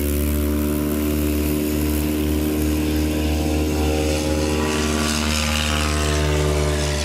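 A STOL light aircraft taking off in a short-takeoff practice: a loud, steady propeller engine drone with strong harmonic hum that swells slightly as it powers up, heard alone at close range.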